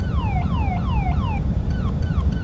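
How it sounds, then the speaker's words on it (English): A cockpit warning alarm in the X-Plane flight simulator sounds as repeated falling electronic sweeps in a fast, steady rhythm, loud and alone over a low engine rumble, then shifts to quicker, shorter chirps. "Still don't know what that alarm does, what that's meant for."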